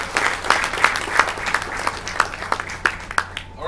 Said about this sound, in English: And I think that in itself deserves a round of applause.